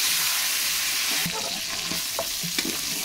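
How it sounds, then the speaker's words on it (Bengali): Chicken pieces fry with a little salt in a pan, giving a steady loud sizzle throughout, with a few scraping stirs of the spoon near the end. "আর আগের মতনই শুধু একটু লবণ দিয়ে মাংসগুলো ভাজবো"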